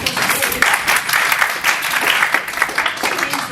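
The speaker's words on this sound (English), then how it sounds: "So we'll just give her a round of applause." A seminar audience gives steady, dense applause for presenter Mary Jo McVeigh at a talk on the psychobiology of complex trauma, with many hands clapping close together throughout.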